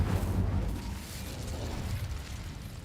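Incendio fire spell cast in Hogwarts Legacy, a heavy whooshing burst of flame that swells at the start and rumbles on steadily, loud and close, with no talking.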